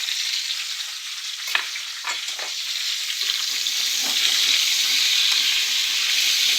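Potatoes fry in hot oil with salt and turmeric, a steady close sizzle throughout with a few brief stirring scrapes early on; no voices.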